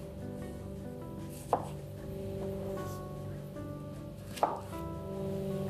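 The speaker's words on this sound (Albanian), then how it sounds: "Dhe me prerje ndërkohë të dardhës." Pears being cut with a knife on a board for a lamb dish, two distinct sharp chops a few seconds apart over a quiet, steady background hum, close by with no talk.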